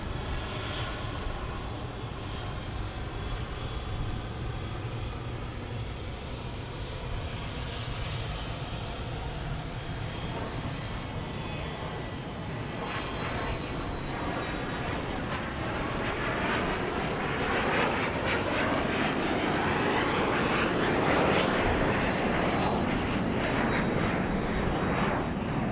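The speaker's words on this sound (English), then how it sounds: "This is a Gulfstream" Gulfstream 4 business jet at Dallas Love Field Airport at night, a loud sustained engine roar that swells and shifts in pitch as the aircraft passes, heard alone without talk.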